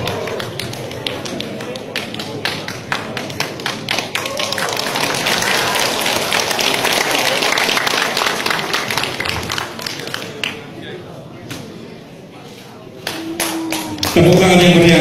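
Audience applause at a Ngo Cho Kun martial arts medal ceremony, a long dense wash of many clapping hands that swells, thins into scattered claps, and then ends with a sudden loud noise.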